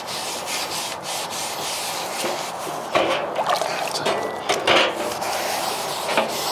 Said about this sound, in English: So we're just going to give this a good scrub.